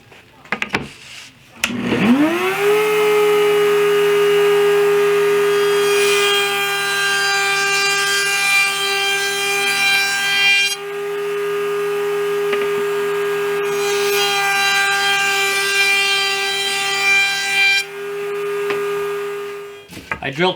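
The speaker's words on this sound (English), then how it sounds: "I'm just going to run this through the router, round off the edges to smooth them up a little bit." Router rounding off the edges of wooden boards, a sustained high-pitched whine that spins up at the start, runs steadily with shifting tone as the cut proceeds, and winds down at the end.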